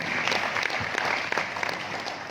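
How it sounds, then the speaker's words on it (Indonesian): An audience at a public lecture in East Kalimantan applauds, a dense and steady burst of many hands clapping that fills the whole moment. "Tepuk tangan untuk kita semua."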